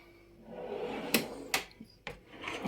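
A kitchen drawer is handled quietly up close, with three sharp knocks and slides of wood and contents over faint room noise.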